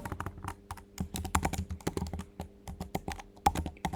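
Rapid, uneven keystrokes on a computer keyboard while a note is typed during a network switch port security setup, a close, steady clatter of clicks with no talking.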